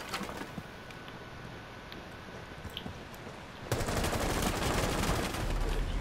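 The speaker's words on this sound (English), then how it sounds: "He's trying to shoot me." Gunfire in the video game Rainbow Six Siege, a steady rattle of shots throughout that jumps to a louder, denser burst of rapid fire partway through, with no talking.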